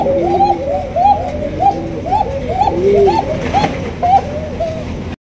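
A pair of white Basiraj Coca pigeons coo close by in repeated rolling, warbling calls, one after another in a steady rhythm, with faint voices in the background.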